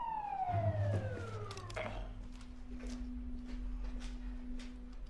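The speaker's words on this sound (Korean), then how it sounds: "이때 기적적으로 경찰차가 도착합니다." A police siren wails loudly, sweeping down in pitch, then gives way to a steady low hum and engine rumble.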